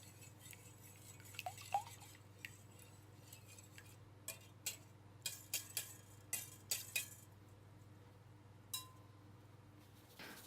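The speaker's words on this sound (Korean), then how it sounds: "볼에 계란을 넣고 거품기로 한번 잘 풀어주세요" A wire whisk beats eggs in a bowl for matcha madeleine batter, giving soft, scattered metallic clinks and taps against the bowl, quiet and irregular over a faint steady hum, with no talking.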